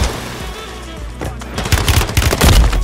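Automatic gunfire in the video game Call of Duty on Rebirth Island, with rapid loud bursts of shots building in the second half of the clip over game background noise.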